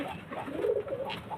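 Pure-bred Andhra nasal pigeons coo softly nearby, a short low throaty burble rising and falling over faint background noise.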